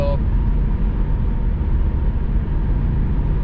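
Steady broadband road and engine rumble inside a high-mileage Saab 9-5 with added sound deadening, accelerating uphill, a constant loud drone filling the cabin with no pauses.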